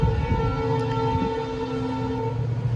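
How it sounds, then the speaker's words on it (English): A train rumbles past close by outdoors, a loud steady drone with sustained tonal whine and low grinding throughout, no talk over it. "sorry for the train noise"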